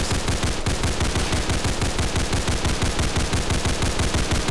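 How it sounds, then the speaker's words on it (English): Rapid, continuous automatic gunfire from a weapon skin in Roblox Tower Defense, loud and steady with a fast repeating rhythm, no talking. "I like its custom shooting sound"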